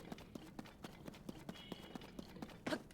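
A horse trots in Zelda: Tears of the Kingdom, its hooves clip-clopping in a steady, quick rhythm at low volume, with a brief louder rustle near the end.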